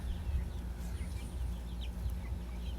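Farm chickens clucking around an open coop in Bien, Unido, with low steady murmuring clucks close by under a constant background hum.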